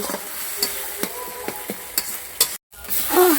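Achari potol (pointed gourd) with tomato is stirred in a pan with a spoon, giving a series of light scraping clicks over soft sizzling, ending with a brief cut and louder frying.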